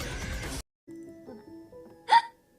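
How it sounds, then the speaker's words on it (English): A single sharp, loud hiccup from a streamer sounds near the end, preceded by a brief bit of music and game sound effects, with no talk over it. "I get the hiccups."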